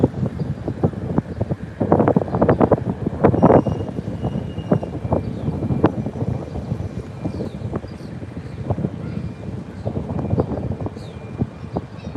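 Airliners landing on an LAX runway, seen close up from the planespotting area: a loud, continuous broadband jet roar, buffeted by wind on the microphone, with no talking.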